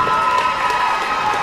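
Wrestling crowd in Knoxville cheering and shouting steadily, a dense, loud roar of many voices with no break throughout.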